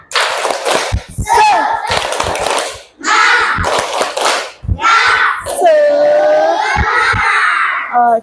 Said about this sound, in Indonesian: Oke, sama-sama kita tepuk semangat.